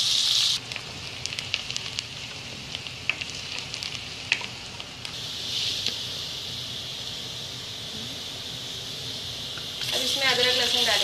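Onions frying in a pot until soft for Hyderabadi mutton tahari, giving a steady close sizzle and crackle that swells slightly around the middle and again toward the end.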